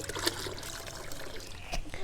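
Water trickles and splashes onto garden soil outdoors, a short soft pour with a brief splatter near the start and another toward the end, fairly close and quiet.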